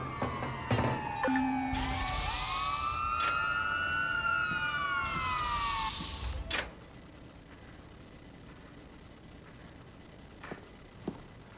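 A police siren in the video game Watch Dogs 2 wails and sweeps up and down for several seconds, fairly close, then cuts off, leaving quiet background with a few faint clicks.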